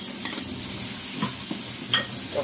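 Garlic and onion sauté in a hot pan, a continuous close sizzle with scattered stirring clicks and scrapes.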